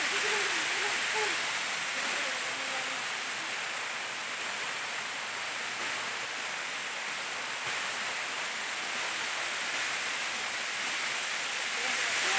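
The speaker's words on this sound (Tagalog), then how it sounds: "Prinsesa Falls." Prinsesa Falls, a waterfall in Santiago, Caraga, Davao Oriental, Philippines, roars as a steady, dense broadband rush of falling water that stays loud and even throughout with no pauses.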